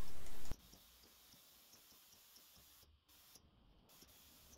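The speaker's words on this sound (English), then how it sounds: "spraying 3 coats in a row, separated only by the movement of time." Clear coat sprayed from a spray gun onto a custom front bumper for an Audi A6 late at night, a steady soft hiss after a brief louder burst at the start, with short pauses between passes.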